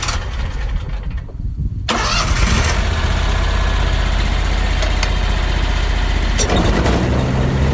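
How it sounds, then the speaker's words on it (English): A lawn mower engine used to mow a church cemetery starts up after a second or two of quiet, then runs loud and close at a steady idle for the rest of the clip. No voices can be heard over it. "Now, 45 years later, Skip has a part-time job mowing the church cemetery where the Lady of the Dunes is buried"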